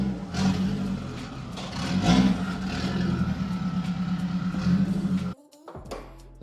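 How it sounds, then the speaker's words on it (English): A turbocharged 8th-generation Honda Civic with an open downpipe runs loud and raspy, swelling with revs before cutting off abruptly near the end, close by with no talking. "If I just decide to push a button like this, then it is open downpipe loud"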